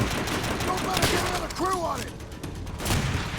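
Gunfire from Call of Duty: World at War during a Veteran-difficulty campaign mission, heard as dense overlapping shots and blasts with whistling tones mixed in, loud and continuous throughout.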